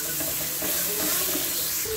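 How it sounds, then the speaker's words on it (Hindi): Potato samosa filling with onion and spices roasting in a pan, giving a steady, close sizzle with soft stirring throughout. "अब हम इसको एक मिनट के लिए बस रोस्ट कर लेंगे, ऐसे भून लेंगे"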